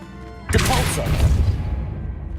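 A Depulso force spell cast in Hogwarts Legacy on PC bursts out as a loud, sudden whooshing blast with a thudding impact, then a rumbling decay that fades over about two seconds.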